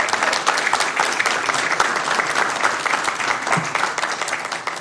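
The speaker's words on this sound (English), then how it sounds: "Let's give her a big round of applause." Loud, sustained applause fills a Sacramento city council chamber as the audience claps steadily and densely throughout, with no break.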